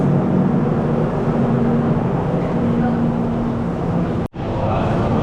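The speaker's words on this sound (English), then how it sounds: "Sorry for the fan noise." A steady broadband whoosh of fan noise fills the whole clip, with a faint low hum and a brief dropout near the end.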